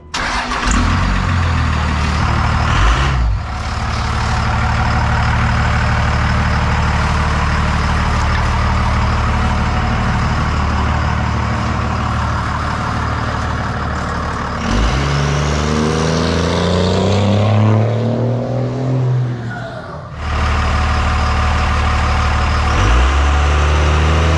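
A 1998 Dodge Ram 3500 with a 24-valve Cummins diesel cranks and fires, then idles loud and close with a heavy rumble, and the revs rise and fall before it settles.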